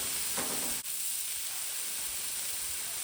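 Burgers cooking on a hot Nexgrill gas griddle, a steady close sizzle and hiss with one brief scrape near the start, no voices.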